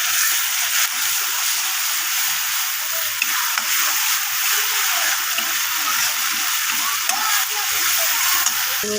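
Spices with salt and turmeric frying in a pan for soybean and potato curry, a loud continuous sizzle with repeated stirring scrapes throughout, close up.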